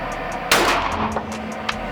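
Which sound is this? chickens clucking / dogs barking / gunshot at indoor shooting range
gunshot at indoor shooting range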